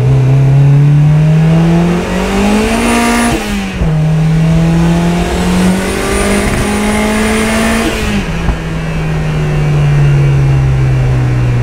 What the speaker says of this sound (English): I still have some misfires at the top. You've heard it there in the third gear